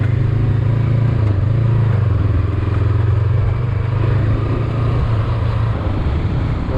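A Honda CB500X, Royal Enfield Himalayan or Kawasaki motorcycle rides a mild gravel stretch through roadworks in Belgium, its engine droning steadily and loudly with a constant rumble of wind and tire noise throughout.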